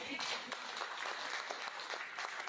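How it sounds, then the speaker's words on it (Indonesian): A church congregation claps together during a worship service, with steady, dense clapping held at a fairly soft, distant level and voices mixed in. "Yang setuju tepuk tangan bagi Allah."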